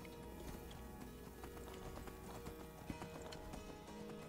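Horse hooves clip-clop at a steady trotting rhythm in the video game Skyrim, mixed with game ambience and faint clicks, fairly quiet overall with no one talking.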